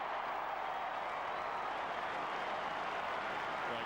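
Stadium crowd applauding and cheering at a 1995 Australian football match between West Coast and St Kilda, a dense, loud, sustained wash of clapping and roar with no pauses.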